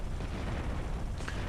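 A construction site explodes in the GTA Vice City video game, a broad rumbling blast with a sharper burst near the end, loud and sustained across the whole moment.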